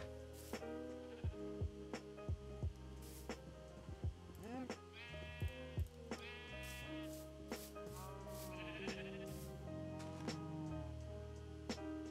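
Sheep bleating in what sounds like a farm game, several drawn-out wavering bleats over a steady looping background of tonal music, with regular soft thumps throughout.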